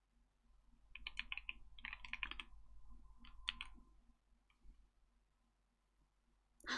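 Typing on a computer keyboard in short quick bursts of clicks, close and fairly quiet, with pauses between runs over a low steady hum and no speech.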